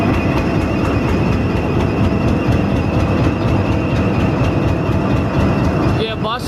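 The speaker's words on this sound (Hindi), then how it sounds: "बहुत लंबी रेल है जी माशाल्लाह जी" A long passenger train rolls past close and loud, a steady rumble with rhythmic clickety-clack of wheels over rail joints and faint squeals, continuing unbroken to the end.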